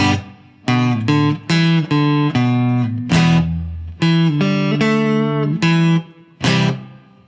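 Guitar chords are strummed in short rhythmic bursts while improvising, each stopped abruptly by a right-hand mute, leaving brief silences between the clear, close, ringing strikes.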